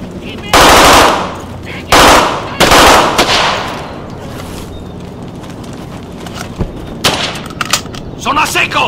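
Machine gun fire in the video game War Man 2, loud sustained bursts of rapid automatic shots in several volleys, followed by quieter scattered gunfire and battle noise.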